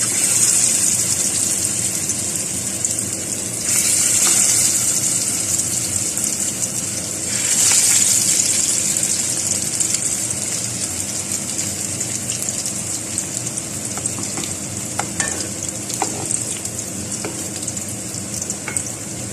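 Oil heats in a pan before frying shami meatballs (kofta), with a constant loud hiss and sizzle that swells briefly twice, plus scattered small crackles near the end. No one speaks.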